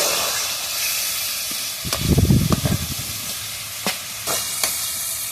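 Spice paste for a yogurt eggplant dish sizzles and fries in a pan while being stirred, a steady hiss broken by bursts of louder crackling and scraping strokes, close and alone.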